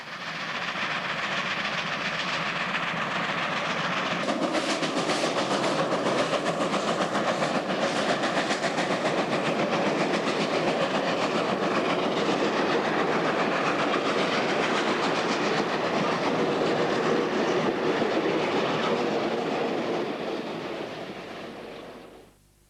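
Garratt steam locomotives labour up a South African mountain pass near the Hooghoek Siding summit, a dense, continuous roar of exhaust and rolling stock that swells after a few seconds and holds steady to the end.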